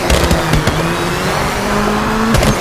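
Citroën DS3 rally car in WRC 4 snapping through a hairpin on the handbrake, a loud continuous engine drone with shifting pitch, brief sharp bursts and a skidding edge as the car slides around, no talk.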